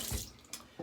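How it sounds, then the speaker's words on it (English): Cold water runs from a tap into a sink for a post-shave rinse, a soft close splashing flow with small bursts as hands move through it. "It's quick cold water rinse and then a splash."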